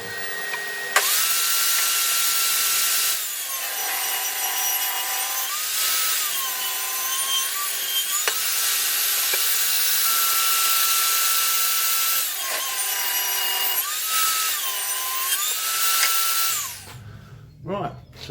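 A loud power saw rips through pallet wood in several long passes, its whine dropping in pitch under load between brief pauses.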